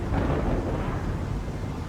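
A heavy storm at sea with thunder rumbles as a constant, loud, deep roar of wind and rain, dense and unbroken, with no voices.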